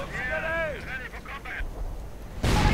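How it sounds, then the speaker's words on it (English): Artillery in a war video game sets off a mine: a sudden loud, broad explosion bursts in at the end, after a stretch of talking over low battle rumble. "artillery setting off a mine"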